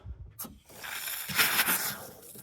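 An off-grid outdoor shower at a lakeside cabin starts up after a short knock, then water sprays out in a steady hiss that swells and holds close by.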